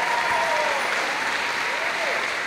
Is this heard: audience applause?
yes